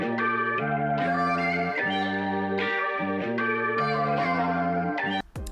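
A soul music sample pitched up three semitones plays as a loud, steady loop of sustained chords with a chopped, repeating rhythm, changing chords roughly every second, ending with a brief glitchy cut.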